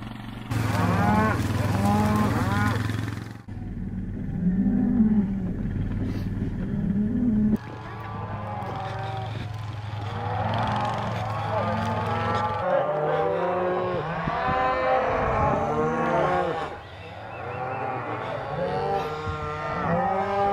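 Cattle moo again and again in home corrals during sorting before pregnancy testing, several animals calling in long, overlapping bellows, some near and loud, others farther off, with steady outdoor background noise.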